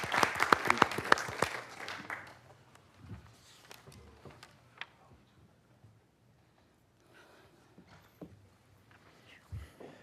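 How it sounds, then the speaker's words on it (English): Applause at a city council meeting rises briefly as a burst of many hands clapping, then fades quickly into quiet room noise with a few scattered knocks. "And a round of applause for the doctors."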